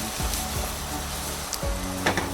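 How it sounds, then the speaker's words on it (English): Diced baby bella mushrooms soften in a hot pan, giving a brief, steady sizzle and hiss with a few soft stirring knocks, and no talking. "we're going to go ahead and add the diced up baby bella mushrooms now, and let that soften"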